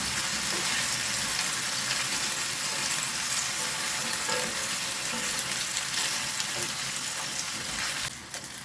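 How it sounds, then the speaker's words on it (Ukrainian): Food frying in oil in a pan until golden, a steady close crackling sizzle that stays loud throughout and dips slightly at the very end. "Ще трошки обсмажую на олії."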